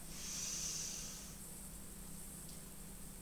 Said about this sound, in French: Et on reprend une inspire.